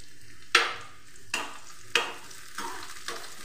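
Chopped onions fry in oil, a soft, steady sizzle broken by about five evenly spaced stirring strokes, each a short scraping burst, with no voices.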